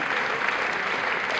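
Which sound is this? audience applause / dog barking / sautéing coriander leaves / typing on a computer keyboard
audience applause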